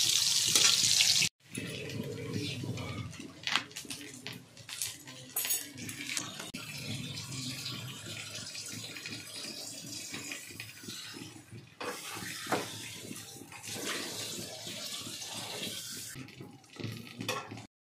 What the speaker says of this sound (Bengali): এখন আগে সকালে টিফিনটা করে একবারে বাসন মাজবো